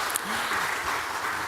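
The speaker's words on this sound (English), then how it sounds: "share an applause" Steady, dense applause from an audience at a World Bee Day event, a brief continuous wash of clapping with a faint voice underneath.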